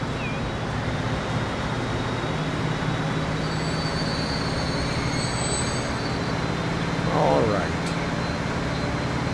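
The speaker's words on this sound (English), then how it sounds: "I think there's like 12 trains running now on this line" Freight trains on a busy freight line in the video game Transport Fever produce a continuous low rolling rumble, with a brief metallic wheel squeal near the end.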